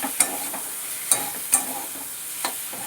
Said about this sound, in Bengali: আদা বাটা, জিরে গুঁড়ো, ধনে গুঁড়ো, হলুদ, লাল লঙ্কার গুঁড়ো করে কষবো যতক্ষণ না তেল থাকবে